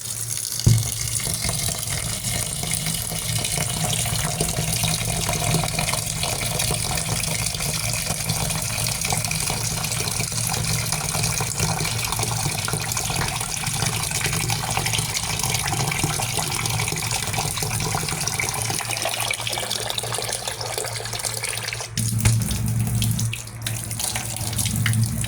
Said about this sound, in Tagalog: Then, lagyan natin siya ng tubig.